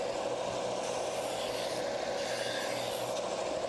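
A steel knife blade ground against the platen of a belt grinder, giving a dense, continuous rasping hiss at a steady level throughout, with no voices.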